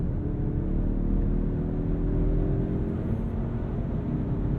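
Inside a 2023 Mazda3 Turbo hatch in Sport mode, the engine drones low and fairly faint after a downshift, rising slowly as the car accelerates, with steady road rumble and no talking.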